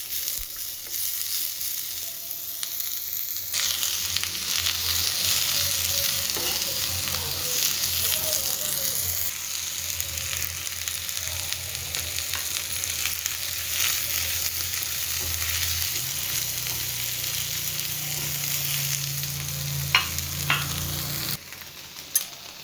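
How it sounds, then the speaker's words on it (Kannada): Spices frying in oil in a pan for a Kannada ridge gourd kootu, with a steady close sizzle and the scrape of stirring running throughout and no talk. "ಇದನ್ನೆಲ್ಲ ಬಾಣಲಿಗೆ ಸ್ವಲ್ಪ ಎಣ್ಣೆ ಹಾಕ್ಕೊಂಡು ಸ್ವಲ್ಪ ಫ್ರೈ ಮಾಡ್ಕೊಬೇಕು"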